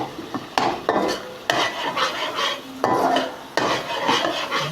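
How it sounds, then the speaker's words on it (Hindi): Onion masala with turmeric powder sautéed for chana dal, stirred with a metal spoon against the pot: repeated loud scraping strokes and clinks over a low sizzle, close up, with no talking. "और मसाले को अच्छी तरह से भून लेंगे"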